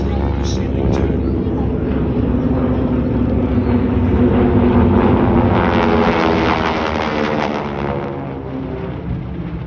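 Four warbird aircraft fly past in formation at an Easter airshow in Wanaka, a loud broad engine roar that swells and holds before easing off, with an announcer talking over it.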